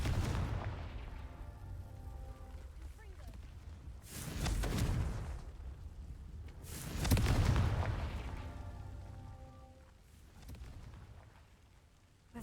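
Confringo spell blasts going off in Hogwarts Legacy, two loud booming explosions around four and seven seconds over a low rumbling backdrop, with a fainter third blast near the end.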